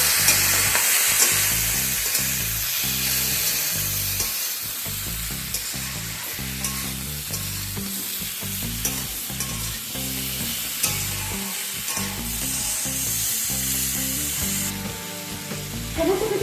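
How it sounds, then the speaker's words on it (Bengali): Spices with turmeric and chilli powder are stirred in a frying pan for a Malabar spinach and bean stir-fry, producing a constant loud sizzle with rhythmic scraping. Instrumental music plays steadily underneath. "এবার একবার ভালোভাবে সমস্ত কিছু মিশিয়ে নিলাম"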